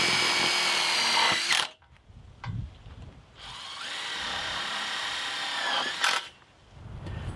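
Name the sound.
drill driving self-tapping screws into pipe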